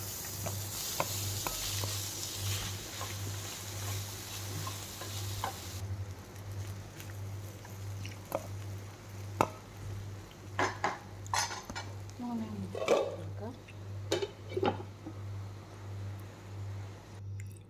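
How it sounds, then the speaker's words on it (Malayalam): Cooked salted rice stirred in a frying pan, with steady sizzling under repeated scraping and clinking of a utensil against the pan, close and moderately loud. "അത് ചേർത്ത് നന്നായി ഇളക്കി 2 മിനിറ്റ് മൂടി വെക്കണം."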